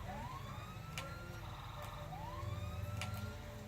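A police car siren wails in slow rising sweeps, faint and far off, over a low steady rumble of traffic and engine noise.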